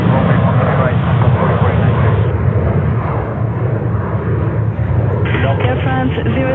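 An airliner taking off from runway 13 right at JFK Airport in New York, a loud, continuous engine roar heard through muffled, band-limited audio, with radio voices talking over it.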